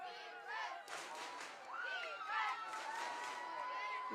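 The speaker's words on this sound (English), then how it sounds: "You can hear everyone is cheering." A crowd cheers and shouts at an American football game between the Tigers and Red Team, with overlapping voices and whoops rising in a dense, moderately distant swell.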